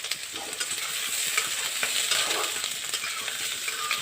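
Chicken pieces for restaurant-style chilli chicken fry in a pan over lowered heat, giving a steady, close, crackling sizzle with light stirring scrapes throughout and no talk.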